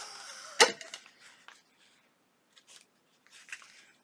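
A sharp, close scissor snip through string, followed by softer snips and rustling at intervals, with quiet pauses between.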